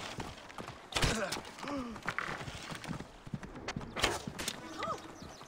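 Rhythmic clip-clop of horse hooves close by in the video game Assassin's Creed Origins, with occasional voiced tones and German talking mixed in.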